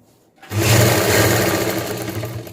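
After a short pause a sewing machine starts up close and stitches a pant waist, making a loud, steady motorized whir with a fast needle chatter that holds for about two seconds.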